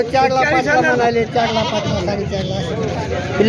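Sheep lambs bleating at a large sheep and goat livestock market in Maharashtra, loud overlapping calls from several animals close by, with market chatter mixed in throughout.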